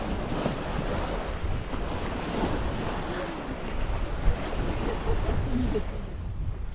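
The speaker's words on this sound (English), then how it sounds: "It's quite windy as well." Steady wind buffeting at the Dead Sea shore in Jordan, loud broadband rushing noise with surf-like washes, continuous throughout with no clear talking.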